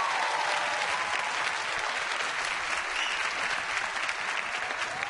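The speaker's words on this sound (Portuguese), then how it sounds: "Uma salva de palmas pra esse pessoal" Sustained, dense applause from a television talk show studio audience, loud and even throughout with no breaks, filling the whole stretch without speech over it.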